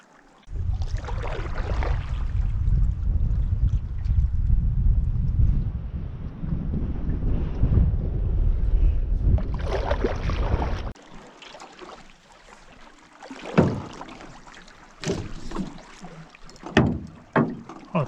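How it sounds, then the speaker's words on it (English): A canoe paddled while trolling for fish on Batchewaung Lake in Quetico Park, with strong wind rumble at first, then distinct paddle strokes and water splashes nearby. "And then you paddle the opposite direction and it accelerates again."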